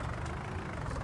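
A small tractor engine idles and hums steadily in Farming Simulator, a low, even drone held at a moderate, close level with no voices over it.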